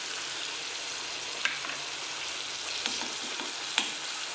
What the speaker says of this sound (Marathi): आता याला 2 ते 3 मिनिटं चांगलं फ्राय करून घेऊया